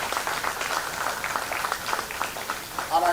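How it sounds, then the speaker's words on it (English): Audience applause for Professor Butali at a university annual lecture, a steady wash of clapping at moderate distance that swells slightly toward the end. "I think he deserves a round of applause."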